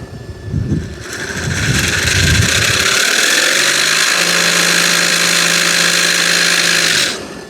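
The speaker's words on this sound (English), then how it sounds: "the different sounding engine" An electronic engine sound from an ESS Dual sound module in an Axial SCX6 RC truck starts up after a few mechanical clicks, then idles with a buzzy, steady drone before cutting off abruptly.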